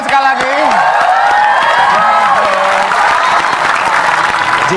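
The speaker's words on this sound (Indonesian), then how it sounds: "Tepuk tangan sekali lagi." A studio audience at an Indonesian late-night TV talk show applauds and cheers loudly and continuously, with whoops and a presenter's voice carrying over the steady clapping.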